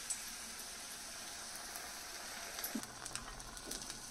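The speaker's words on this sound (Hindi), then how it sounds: "ये देखिए, इस तरह से हम इनको डीप फ्राई कर लेंगे।" Stuffed spinach pakoras coated in gram flour batter with potato masala deep fry in hot oil, a soft steady hiss and faint crackle, quiet and continuous with a few small pops.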